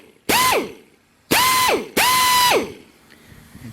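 A BlackRidge pneumatic air tool from a home mechanics air compressor kit, run with no blade fitted, fires three times: loud whirring bursts that spin up sharply, hold briefly, then wind down, with short pauses between them.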